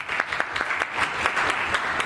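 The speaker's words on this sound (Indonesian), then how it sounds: "Tepuk tangan dong untuk kita semuanya." An audience at a festive gathering breaks into applause, a dense, lively patter of many hands clapping together at close range, steady from start to finish.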